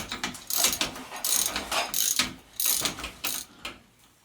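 Ratchet wrench loosening a bolt on a Rock Shox Jett C bicycle suspension fork: close, sharp bursts of rapid clicking in short repeated strokes.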